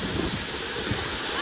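Water pouring and splashing at a waterfall, a steady, dense, close rush of spray that fills the whole moment with no clear breaks.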